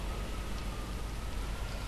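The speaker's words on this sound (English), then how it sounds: "it started raining" Rain in the video game Dead Island falls as a steady, dense, fairly loud hiss and patter, unbroken and constant across the short stretch, with no talking.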